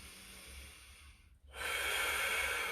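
A person breathes heavily through a static stretching routine done with a stick or pole: a steady breath, a brief pause, then a louder, rushing exhale that holds close to the mic, with no talking.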